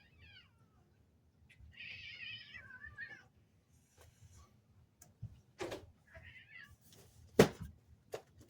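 Indoor cats meow, with two drawn-out wavering cries and a shorter later call, plus scattered soft thumps and a sharp knock from movement, fairly faint and close with no talking.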